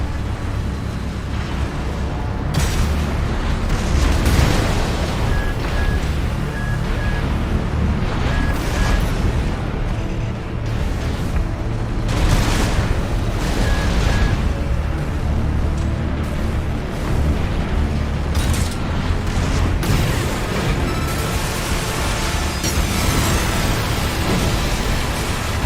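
Loud, continuous roar of explosions and rumbling blasts as the Juggernaut war machine is destroyed in the Armored Core 6: Fires of Rubicon video game, with dense booming noise filling the whole stretch.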